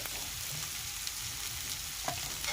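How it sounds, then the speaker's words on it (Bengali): Fish curry masala with salt and turmeric sautés in a pan with a steady soft sizzle and occasional stirring scrapes, close and fairly quiet. "এগুলো দিয়ে আমি ভালো করে এবারে কষিয়ে নেব"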